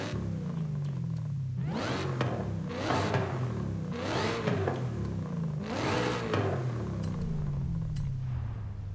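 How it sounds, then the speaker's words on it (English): A car's loud exhaust roars through repeated revving surges and gear changes in Forza Horizon 5, the supercharger whine buried beneath the engine, rising and falling in rhythmic waves with no talk. "Our exhaust is so loud that it masks over the sound of the supercharger"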